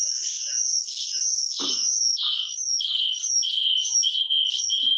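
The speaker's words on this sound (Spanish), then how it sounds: "Tengo un grillo acá." A cricket chirps indoors during a church gathering held over a video call, a steady run of short, high, closely repeated trills lasting throughout, fairly loud and close, with no talking over it.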